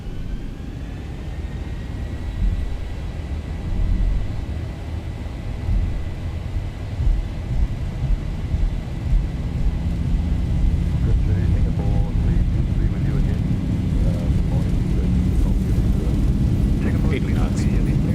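A Zibo Boeing 737-800 in X-Plane 12 runs its jet engines at takeoff thrust. A broad, continuous roar swells louder over about eighteen seconds while a voice talks over it.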